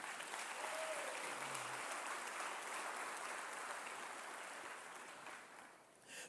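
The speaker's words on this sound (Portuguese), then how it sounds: "Dá um aplauso bem forte a Ele." A church congregation gives sustained applause for God during a Portuguese sermon on leadership, a dense, even wash of many hands clapping that fills the room for several seconds before tapering slightly at the end.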